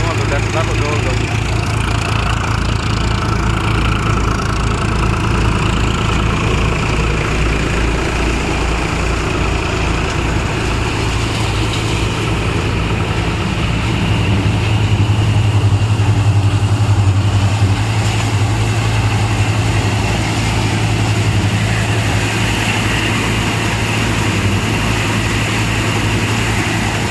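Farmtrac 60 tractor engine idling near a multicrop thresher at a soybean harvest, a steady low diesel drone that runs throughout at close range, with a voice talking over it.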